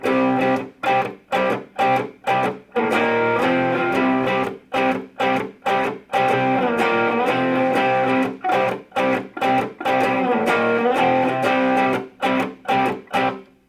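A loud distorted electric guitar plays a riff as chopped power chords in short rhythmic bursts separated by brief silences, with no voices.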